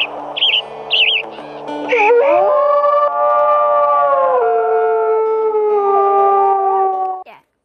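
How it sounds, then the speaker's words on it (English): A wolf in the WolfQuest video game lets out a long, loud, sustained howl with rising and wavering tones, following a few short yelping calls at the start. "that's his howl"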